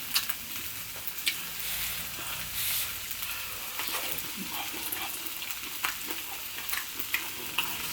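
Food sizzling and crackling on a hot grill during a Samoan-style barbecue meal, a steady bright hiss with scattered sharp pops and spits, close and continuous with no talking.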